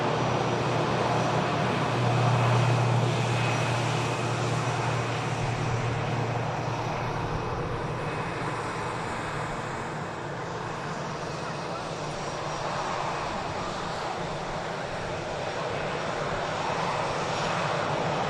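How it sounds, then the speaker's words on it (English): An ATR turboprop airliner on its takeoff roll at Manchester Airport, a steady, heavy engine roar held for the whole stretch, fairly distant and continuous, with talking over it. "the ATR heading on the return leg to the Isle of Man is now on the takeoff roll"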